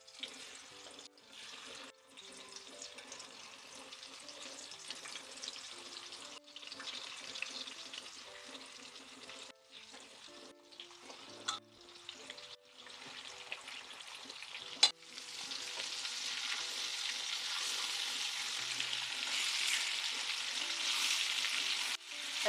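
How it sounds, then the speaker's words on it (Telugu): Fish pieces frying in a little oil in a pan for Andhra-style fish curry, a steady soft sizzle throughout with occasional clinks, growing louder and denser in the second half. "కొంచెమే ఫ్రై చేస్తాను."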